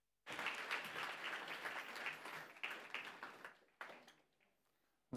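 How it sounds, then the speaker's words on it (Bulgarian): An audience applauds as a speaker is invited onto the stage at an astrophotography talk, a dense burst of clapping starting abruptly, holding steady for about three seconds, then thinning into scattered claps and fading. "моля за аплодисменти за Ганчо Ганчев"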